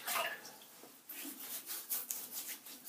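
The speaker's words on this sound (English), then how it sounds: "I'm just going to rinse my face slightly" Someone rinses their face with water at a sink before a wet shave with a 1918 Gillette razor. Soft splashes and rubbing of wet hands on skin come in several quiet, uneven strokes, close to the microphone.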